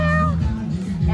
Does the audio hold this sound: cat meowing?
yes